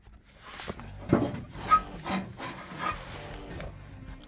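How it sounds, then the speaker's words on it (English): An oil pan is slid and scraped around beneath a 1994 Ford F-150, giving a few quiet, close rubbing and knocking sounds in short bursts. "Well, let me move the oil pan."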